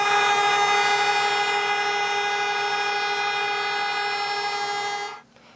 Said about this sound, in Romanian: Nemulțumiți, aceștia au claxonat în semn de protest.